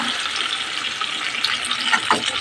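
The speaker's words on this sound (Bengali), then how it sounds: "এবার আমি জল দিয়ে দেবো।" Water is poured into a simmering khoira fish curry made with mustard and poppy seed paste. A close, steady splashing pour lasts a couple of seconds, with no talking over it.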